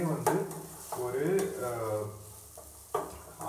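Vegetables and onion sauté in hot oil for rava kichadi, a soft sizzle under repeated scraping and stirring of a spatula against the pan, with a few sharper clinks, close and clear.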